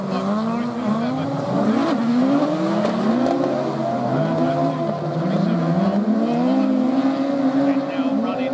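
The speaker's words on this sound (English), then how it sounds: "And here we go then. We are off and racing." Autograss race cars roar off the start at Blyton, engines revving and rising in pitch as the pack accelerates, loud and continuous with a commentator talking over them.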